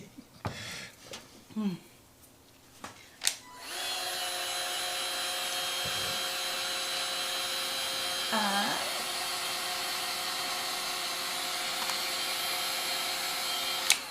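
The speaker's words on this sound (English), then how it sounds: "I'm using a heat gun to help set the contact cement faster." A heat gun blows on contact cement spread on EVA foam, starting after a few seconds of brief talk and handling noises and then running as a loud, steady whirring rush until the end.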